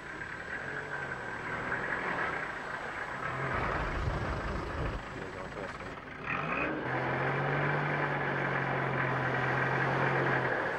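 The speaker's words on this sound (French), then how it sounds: "Nous sommes à bord d'un véhicule propulsion enclenchement du pont avant. Nous venons de nous mettre en perte d'adhérence sur la neige au niveau du train arrière" A rear-wheel-drive 4x4 with front axle engaged drives on snow, its rear wheels losing grip; a steady, fairly loud engine drone with a brief dip mid-clip before the engine pulls again with a low steady hum.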